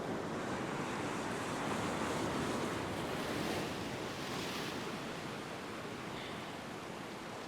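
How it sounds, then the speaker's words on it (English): Ocean waves surge and break steadily on a beach during a surf-fishing session, a loud, continuous wash of surf with wind noise on the microphone and no voices. "I've just got to keep my eye on these waves."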